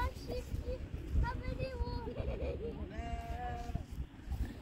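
Sheep bleat repeatedly in a field at Stonehenge in Wiltshire, England, wavering calls rising over a busy outdoor background with children's voices and chatter.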